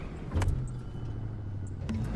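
Engine of a car driven in the racing game The Crew 2, a faint low rumble holding steady with a brief louder swell, quiet and without speech.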